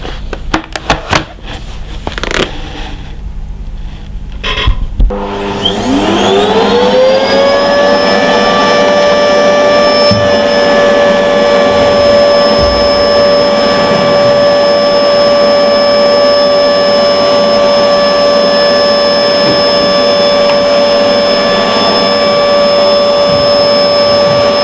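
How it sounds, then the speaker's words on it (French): Vacuum cleaner fitted with a floor brush, running steadily on a flat floor after a few seconds of handling clicks, its motor whine rising then holding a loud, constant drone with high tonal harmonics. "Quand on commence à passer l'aspirateur"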